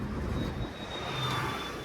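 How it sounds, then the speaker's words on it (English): Airplane flying overhead near an airport in Etobicoke, Toronto, a steady, fairly loud broadband engine roar with a faint high whine, heard from a street amid traffic noise with no talk. "we're gonna be seeing a couple of planes here and there, because again, the airport it's not too far"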